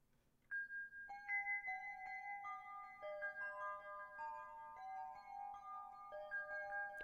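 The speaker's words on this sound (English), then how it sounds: "It's called Glassy Glockenspiel. And I put delay on it." A glassy glockenspiel synth patch with delay plays a soft, bell-like melody of chiming notes whose echoes trail and overlap. It is quiet and close, over a faint low hum, with no voices.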